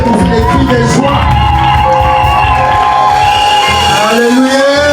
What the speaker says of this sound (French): Je croyais que tu allais nous faire des cris de joie.